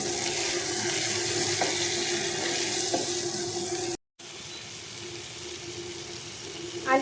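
Vegetables, potato and pointed gourd, fry in oil with turmeric and salt, making a steady loud close hiss that cuts off for a moment, then resumes softer with a brief clatter at the end.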